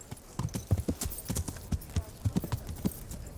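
Horse hooves clip-clopping at a steady walking pace in the medieval video game Kingdom Come: Deliverance, a clear, close series of hoof strikes with no talk over them.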